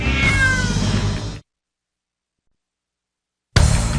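A cat gives a drawn-out, wavering meow up close, then the sound cuts to silence for about two seconds before resuming with more loud cat noise.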